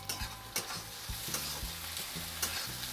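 Garlic, ginger and green chili fry in a pan while being stirred, a steady sizzling hiss punctuated by rhythmic scraping strokes of a spoon roughly every half second, close and without talk.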